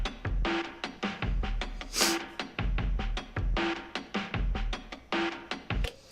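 A chopped drum loop punches out a choppy pattern of kicks, snares and hi-hats, stuttering and close, with no one speaking.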